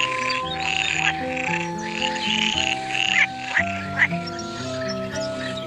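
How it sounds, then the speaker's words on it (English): A frog in a children's alphabet lesson gives repeated croaks over a light melodic music backing. The croaks come as a close, steady series throughout. "F for frog."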